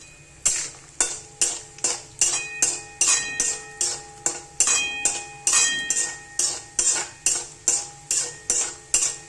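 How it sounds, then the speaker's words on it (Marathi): Dry fruits for date and dried-date laddoos roasting in oil in a pan until brown, with a utensil striking and scraping the pan in a steady rhythm of about twenty sharp metallic knocks, close and clear, with no talking. "ब्राऊन कलर होईपर्यंत भाजायचे ड्रायफ्रूट"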